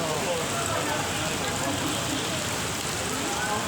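Heavy rain pours steadily onto Colon Street in Cebu City, Philippines, a dense, constant hiss of water on pavement and surfaces that continues without pause, close and loud.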